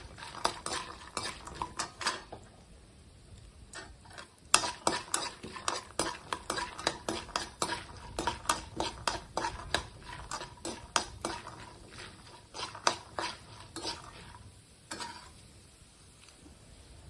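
Dry chana dal lentils frying in a pan for a mint chutney, a spoon scraping and tapping against the pan in quick repeated strokes, with brief pauses, over a low sizzle, close and alone.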